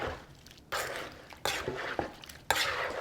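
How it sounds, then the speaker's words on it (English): Instant pudding mix is stirred into a fruit salad of canned pineapple chunks and their juice, making wet, sloshing strokes in three or four bursts with brief quiet gaps between them and occasional faint clinks of a utensil. "just sprinkle this over and start stirring it"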